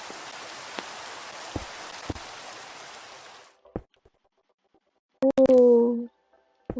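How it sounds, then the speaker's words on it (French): Steady hiss of rain in Minecraft falls alone for about three seconds, then cuts off, leaving a few scattered clicks and brief tonal game sounds. "la pluie, yes."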